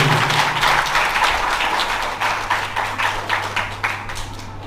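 Audience applause for children at a Sanatan children's program, many hands clapping in a loud, steady patter that thins toward the end, with a low steady hum underneath.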